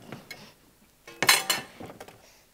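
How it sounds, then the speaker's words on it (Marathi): A griddle pan is lifted off a gas stove in a home kitchen, giving a few faint metallic clinks and clanks. The loudest scrape and clatter comes in a short burst midway, followed by softer knocks, with no talk. "गॅसवरचा तवा काढ आणि तेल ठेव."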